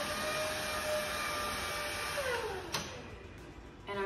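Lacidoll cordless wet-dry stick vacuum runs with a steady loud motor whine that drops in pitch as it is switched off, then restarts near the end, heard up close.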